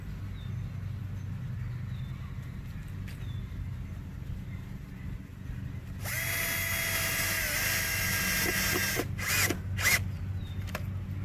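Cordless power drill drives a wood screw through a washer into a wooden rabbit hutch: quiet handling at first, then a loud whining burst of several seconds followed by short stop-start pulses.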